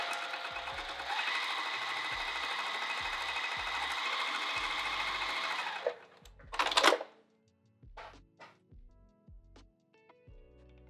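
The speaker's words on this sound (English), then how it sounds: "just need to trim this and then reseal that edge by sewing down" Close, loud sewing machine runs steadily for about six seconds while stitching down a pocket edge, then stops, followed by a few scattered clicks and knocks as the fabric is handled.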